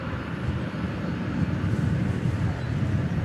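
A United Airlines Airbus A319-100 jet rumbles at an airport, a broad distant engine roar that swells partway through and holds steady.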